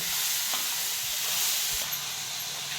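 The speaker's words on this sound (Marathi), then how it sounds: "आता ही चांगली भाजी टाकून घेतली ते परतून घ्यायची" Amaranth greens (tandulja bhaji) with red chilli powder and chutney are sautéed in a pan, producing a constant loud sizzling hiss with faint stirring scrapes underneath.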